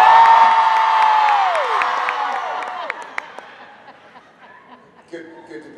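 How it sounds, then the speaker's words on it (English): A live comedy audience cheers and laughs, starting loud and fading over several seconds, with a few claps and voices trailing off near the end. "It's really cool to say hi, y'all, and have people scream."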